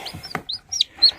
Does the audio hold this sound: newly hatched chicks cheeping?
yes